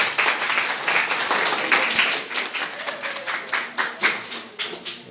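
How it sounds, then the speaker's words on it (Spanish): Applause from a group of students in a classroom, scattered uneven claps filling the whole stretch at moderate loudness, a little sparse and irregular rather than a dense roar. "un aplauso para este grupo"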